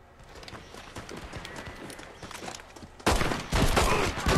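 Gunfire in Red Dead Redemption multiplayer starts as scattered sharp cracks and thuds. It then bursts into a dense, loud volley of shots close by near the end.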